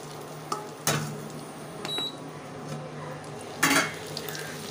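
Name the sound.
sautéing onions and tomatoes with stirring in a pan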